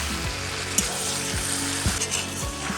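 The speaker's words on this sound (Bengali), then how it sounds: "মাংসতে যে তেল ছাড়তেছে আর একটুক্ষণ কষাই নেবো" Mutton sizzles steadily as it is stir-fried in oil in a pan, a continuous close frying hiss broken by soft periodic scrapes and stirring knocks, with no voices.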